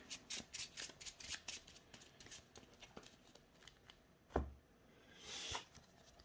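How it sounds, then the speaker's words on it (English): Rapid papery riffling in quick bursts as a Yu-Gi-Oh! Blue-Eyes White Dragon deck is shuffled up close, followed by a sharp tap and a softer whoosh. "do not forget to shuffle your deck"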